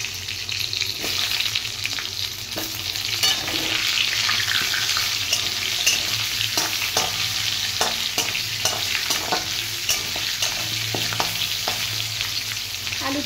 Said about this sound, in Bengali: আলুটা ভাজতে দিয়ে দেব।